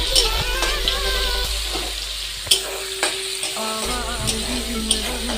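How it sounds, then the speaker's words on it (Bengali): Onions and tomatoes frying in a home kitchen pan make a steady, moderate sizzle, with occasional sharp clinks and scrapes of stirring throughout and no talking. "পেঁয়াজ টমেটো আমার খালি ভাজা হয়ে গেছে"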